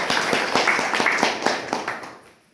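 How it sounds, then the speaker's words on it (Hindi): Short burst of audience clapping at a gathering for a speaker, dense claps fading out over about two seconds. "तालियां।"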